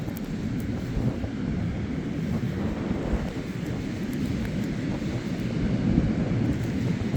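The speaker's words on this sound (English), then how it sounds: "The wind is still up, but like the app predicted, the wind is gonna drop eventually." Strong wind buffets the microphone outdoors during a fishing trip, a steady broadband roar with low rumbling gusts that holds throughout and swells slightly toward the end, with no talking.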